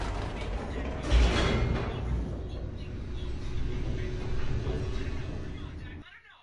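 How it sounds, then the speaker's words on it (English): An elevator descends in the video game The Stanley Parable, giving off a continuous mechanical rumble with creaking and grinding close up. The machinery cuts off abruptly near the end. "The elevator raced downward, plummeting towards an unknown fate."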